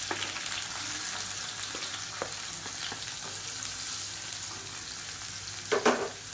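Long-sliced onion frying in hot oil with spices in a pan for idli biryani, a steady close sizzle throughout with a few brief stirring clatters, the loudest near the end.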